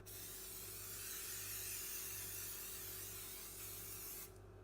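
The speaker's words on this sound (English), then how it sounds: "spray the cupcake tray with cooking oil" A continuous close hiss of cooking oil spray onto a cupcake tray lasting several seconds, then cutting off abruptly.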